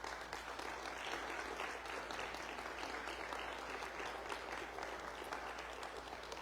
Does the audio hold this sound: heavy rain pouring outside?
no